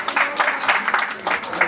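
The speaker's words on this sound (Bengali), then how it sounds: "বদিউল আলম খোকনের জন্য জোরে একটা হাততালি হবে" Applause for a film director at a Bangladeshi film launch ceremony, steady clapping from a gathered crowd with voices mixed in, moderately loud throughout.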